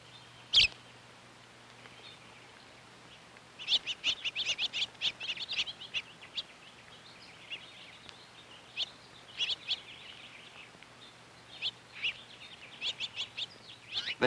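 Birds, English sparrows among them, chirp at a backyard feeding tray: faint, quick clusters of short high tweets in irregular bursts against a quiet background, with no voices.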